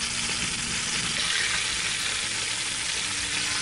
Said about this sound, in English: start putting our pieces in there, and we're just gonna brown them